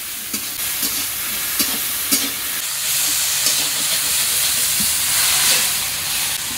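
Water lily stems frying with turmeric and salt in a pan, giving a steady sizzle with scattered soft stirring clicks throughout, up close and without voices.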